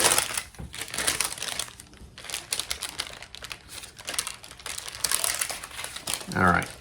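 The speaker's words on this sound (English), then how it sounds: "Let's see if I can peel it the other way by flipping it over." A gluten-free cottage cheese flatbread is peeled from its baking surface and flipped over, producing close, papery crinkling and rustling in uneven bursts. The sound is dense and continuous, rising near the end.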